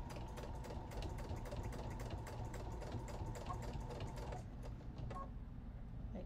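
A sewing machine runs continuously at a quick even pace, stitching a seam on a thrifted vest, its rapid rhythmic needle ticking and motor hum close by before a brief slowdown near the end.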